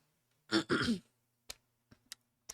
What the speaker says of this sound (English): That cough took a lot more out of me than I thought it did.